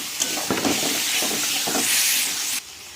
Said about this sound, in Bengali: আমি মশলা ধোয়া জলটা ওর মধ্যে দিয়ে দিলাম আবারও কষাবো